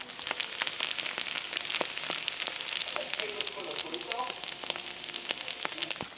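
Fried rice sizzles steadily in a hot pan, a continuous crackling hiss with scattered sharp pops throughout, fairly close and moderately loud, with no one talking over it.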